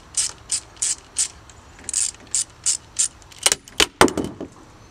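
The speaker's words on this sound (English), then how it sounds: "Little ratchet into the bolt." A hand ratchet loosens the bolt that holds the limb section of a crossbow, giving a quick run of crisp, evenly spaced clicks up close, then a few faster, sharper clicks at the end.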